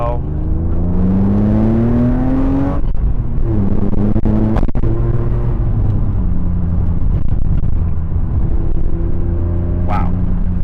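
A BMW E36 M3 on MTS Technik coilovers drives winding roads, its engine a loud, steady in-cabin drone that rises and falls in pitch with gear changes, with a few sharp knocks from the road.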